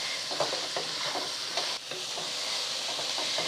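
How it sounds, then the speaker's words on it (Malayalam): Small onions fry in a pan for a beef curry, giving a continuous hissing sizzle at moderate volume, with soft stirring scrapes now and then and no talking. "ഉള്ളി ഇളക്കി വെക്കുവാണ്."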